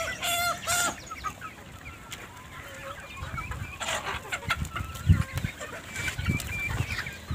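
Chicks and chickens pecking at grain in a home yard, with repeated soft clucks and a few higher peeps scattered through the clip, close and clear with no talk.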